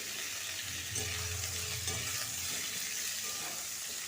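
Potato, bori lentil dumplings and cauliflower frying in oil in a pan, a constant quiet sizzling hiss with occasional faint stirring scrapes, close and unbroken, with no one speaking.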